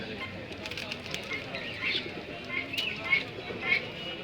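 Grizzle pigeons coo softly at a busy pigeon market, low repeated coos mixed with a few chirps and wing flutters over a background of crowd murmur.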